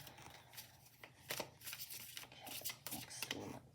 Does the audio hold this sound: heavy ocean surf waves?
no